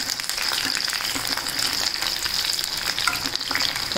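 Battered jackfruit manchurian pieces frying in hot oil give a loud, continuous crackling sizzle, close up and unbroken, with occasional faint stirring clinks.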